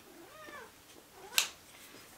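Cat meowing faintly indoors, a few soft rising calls followed by a sharp brief clatter, fairly quiet and close.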